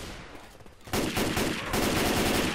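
Rapid gunfire crackles in Left 4 Dead 2, with quieter shots first, then a louder burst of quick repeated shots that keeps going to the end.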